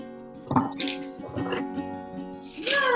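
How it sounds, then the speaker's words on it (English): Wet squelching and dripping as salted shredded cabbage is squeezed by hand to draw out its water for sauerkraut, several soft squishes spread across a few seconds, close and fairly quiet. "as you're doing this, you can squeeze and you can start to feel the water coming out of the cabbage"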